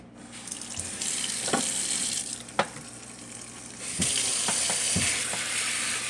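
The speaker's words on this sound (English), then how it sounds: "right now we're just going to wash them up right now and get them clean" Chicken of the woods mushrooms being washed under a running faucet, with steady close water flow interrupted by occasional splashes and knocks in a sink.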